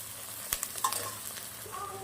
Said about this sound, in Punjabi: ਪਿਆਜ਼ਾਂ ਨੂੰ ਹੁਣ ਆਪਾਂ ਚੰਗੀ ਤਰ੍ਹਾਂ ਭੁੰਨਾਂਗੇ